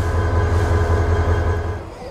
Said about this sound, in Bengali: আমাদের ট্রেনের ইঞ্জিন গরম হচ্ছে।